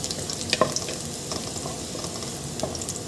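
Garlic frying in a generous amount of oil for adobong pusit, a steady close crackling sizzle with scattered pops and light stirring scrapes throughout.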